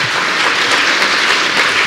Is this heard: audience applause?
yes